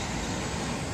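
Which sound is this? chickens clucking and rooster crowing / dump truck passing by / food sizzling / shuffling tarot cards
dump truck passing by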